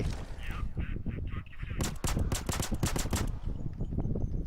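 In the video game Payday 2, a rapid burst of about eight sharp gunshots cracks out in quick succession, loud and close, after a stretch of softer game noise.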